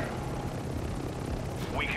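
A helicopter in Call of Duty: Modern Warfare II Ground War gives a steady, continuous rotor drone throughout, mixed with battle noise and voices.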